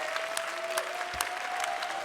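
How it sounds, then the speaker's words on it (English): Round of applause from the crowd at a COE 2023 1v1 final match, steady dense clapping filling the whole stretch with a few sharper claps standing out. "Round of applause to FlyingTuna as well"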